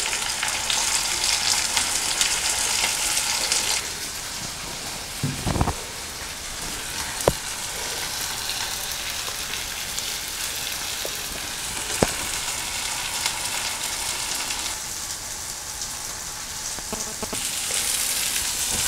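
Mackerel pieces fry in a pan over a medium flame, giving a steady, close crackling sizzle throughout with a few sharper pops and clicks scattered over it.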